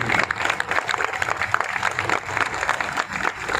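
Hearty applause from a crowd at a sports complex inauguration in Borivali, honouring local legislator Sunil Rane: dense, steady clapping that fills the space without pause.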